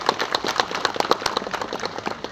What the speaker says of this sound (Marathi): त्या सर्वांसाठी आपण स्वतःसाठी टाळ्या वाजवल्या पाहिजे